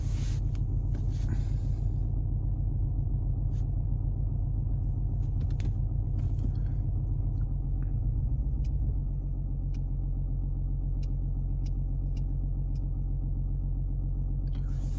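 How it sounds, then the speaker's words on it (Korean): A Mercedes-Benz W222 S-Class engine runs at idle just after starting, a steady loud low rumble heard from close by that drops slightly in pitch and level partway through and then settles. "이제 시동 켰습니다."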